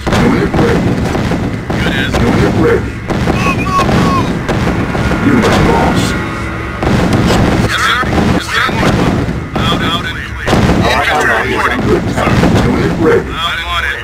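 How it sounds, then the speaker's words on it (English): Loud booming artillery fire and missile launches in the Tiberian Sun strategy game give repeated heavy blasts and rumbles over a continuous battle din, with a voice speaking at times. "Missile launch detected."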